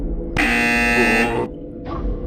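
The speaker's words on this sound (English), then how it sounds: "That beep means yes, right?" A robot in the visual novel Adrift gives one loud, flat electronic beep lasting about a second, followed by a quieter, shorter tone after a short gap.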